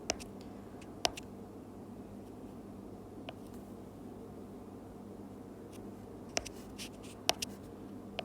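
A pen or marker draws a hand diagram of an upper hemisphere, with faint scratchy strokes and a few sharp taps of the tip against the surface over a steady low background hum.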